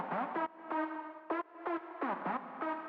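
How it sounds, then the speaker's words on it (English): Synth lead gliding in during a bass house build-up, with short pitched stabs and upward-bending notes that repeat in a choppy, rhythmic pattern, moderately loud and processed with filtering and effects. "And then finally, we've got our lead that starts filtering in."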